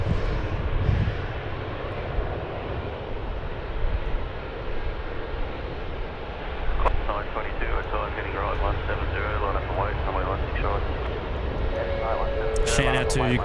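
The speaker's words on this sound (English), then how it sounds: "Velocity 824 off to Melbourne now. Entered runway 16 right" A Velocity jet airliner departs from runway 16 right at Sydney Airport, its engines a steady, broad roar throughout while someone talks over it.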